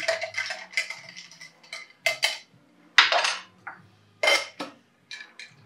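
A spoon clinks and rattles against glass while stirring a Malört cocktail, sharp bright taps in irregular bursts with quiet gaps between.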